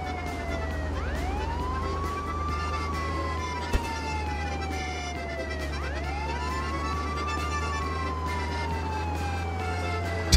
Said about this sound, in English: Do you hear sirens?